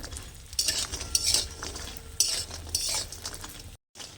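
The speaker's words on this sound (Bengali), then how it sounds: "আমি লাল করে ভেজে নেব দেখুন এভাবে লাল করে নেব" Lentil dumplings (bori) frying in hot oil while being stirred for a fish recipe, with close scraping stirs, bursts of sizzle and light utensil clinks, alone without talk and cutting briefly to silence near the end.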